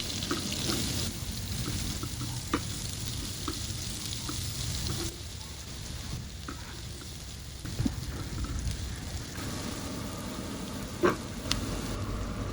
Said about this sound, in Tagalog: Binawasan ko lang ang mantika at magigisa na ako ng luya,